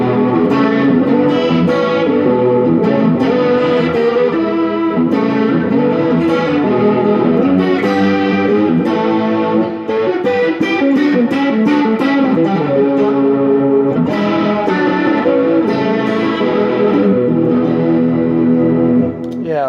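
Electric guitar run through a vintage Ibanez chorus pedal, an SC10 or CS9, strummed chords and picked notes with a shimmering, swirling modulated tone, loud and continuous for about twenty seconds without talk.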